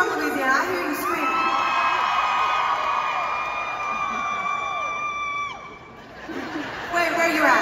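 A Lauren Daigle concert audience screams and cheers loudly in a sustained roar of high-pitched shouts that briefly dips before surging again.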